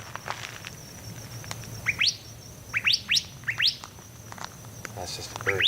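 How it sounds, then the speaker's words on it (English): An odd-sounding bird calls outdoors at a campsite around sunset, a handful of quick rising chirps in short clusters at moderate distance over faint background hum. "That's just a bird. That's a weird sounding bird."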